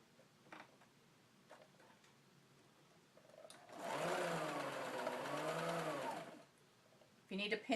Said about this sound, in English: And we're just sewing the bottom. And I'm going to be using a straight stitch.